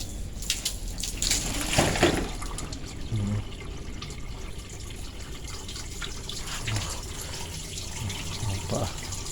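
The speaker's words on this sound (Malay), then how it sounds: "next kita flush dengan air pipe je dulu" A hose pipe flushes water through a rusty car radiator, a continuous splashing gush with some faint talk mixed in, fairly close and steady throughout.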